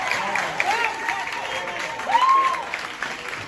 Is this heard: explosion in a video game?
no